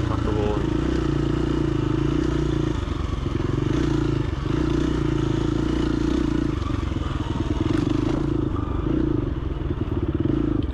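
A dirt bike engine drones steadily in second gear on a single-track trail in Red Rock, Texas, loud and close throughout, with clattering bumps over the terrain and a rider talking over it.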